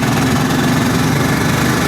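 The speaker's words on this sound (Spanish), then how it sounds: "Este monocilíndrico trabaja abajo totalmente, o sea, lo puedes bajar mucho de revoluciones" A Voge 650DSX single-cylinder motorcycle engine lugs at low revs, about 2000 rpm, with a steady, rough, loud thrum and no break or talk.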